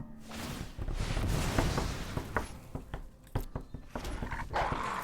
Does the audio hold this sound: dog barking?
yes